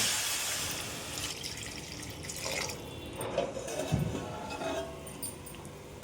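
Water poured into a cooking pot while making mushroom biryani, a steady splashing, trickling pour with small drips and clinks up close, no voices.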